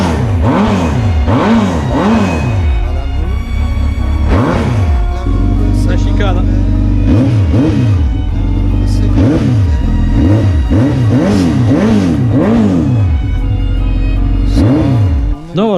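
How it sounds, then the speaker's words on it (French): A Suzuki GSX motorcycle engine fitted with an exhaust baffle revs repeatedly, loud and close, rising and falling in a series of throttle blips over a steady idle, with a voice speaking now and then. "Là, on va en profiter pour écouter un peu le son de la chicane."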